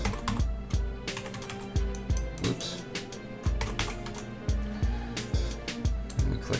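Quick, close taps on a computer keyboard as a subject line is typed, a steady run of sharp clicks with a few brief pauses.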